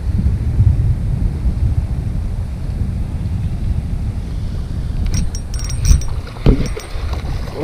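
Wind gusts across the microphone on a fishing boat out on the water, a constant low rumbling buffet with a few sharper knocks and rattles toward the end.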